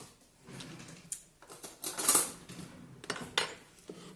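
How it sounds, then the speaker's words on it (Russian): Minced vegetable mixture for cutlets, made with courgette, is stirred in a bowl, giving soft, close clinks and scrapes of utensil against dish in irregular bursts. "Вымешиваем наш фарш на котлетки"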